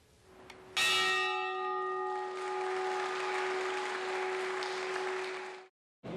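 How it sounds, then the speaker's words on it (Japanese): Kobe port prosperity bell struck once at the opening of the early-summer Kobe festival, a loud clear ringing tone with long sustained resonance, accompanied by applause from the crowd. "神戸港繁栄の鐘が鳴らされ、初夏の港町を華やかに彩る神戸祭りの開幕を告げました。"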